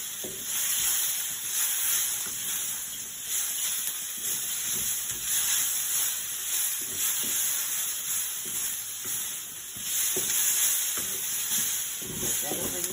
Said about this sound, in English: Add the potato a little bit at a time. You don't want your wok to cool down too much.